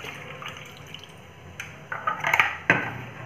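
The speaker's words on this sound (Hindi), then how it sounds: "तो ये हमने आइस लिया है और आइस में हम ठंडा पानी एकदम डालेंगे" Chilled water pours over ice in a bowl used to stop sponge rasgullas cooking. Soft trickles build into a short, close splashing pour with a sharp final splash near the end.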